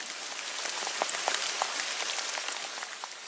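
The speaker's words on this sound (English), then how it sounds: "Rain begins to fall" Rain falls steadily outdoors, a dense, even patter with scattered sharper drop hits spread throughout, and no voices.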